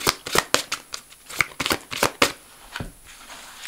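Tarot cards are shuffled close by in a quick series of crisp riffling flicks and slaps that taper off toward the end.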